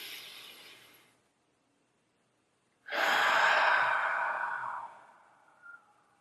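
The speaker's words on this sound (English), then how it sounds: "take a deep breath right now with me" A slow, deep breath with a long drawn inhale, a pause of silence, then a fuller, louder exhale trailing off, close and alone with no talk.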